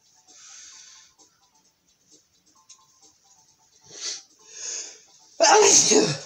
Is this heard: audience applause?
no